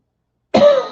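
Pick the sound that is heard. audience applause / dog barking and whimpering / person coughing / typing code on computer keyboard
person coughing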